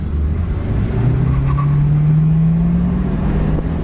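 Engine and exhaust of a 1968 Ford Torino GT convertible while driving, a steady low drone that climbs slowly in pitch as the car cruises, fairly quiet and even with no talking.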